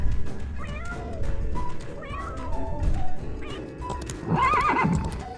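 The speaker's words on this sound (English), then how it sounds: "horse" A horse whinnies with a rising, shaky neigh near the end, mixed with cat meows and clip-clopping hooves throughout, all fairly loud and close.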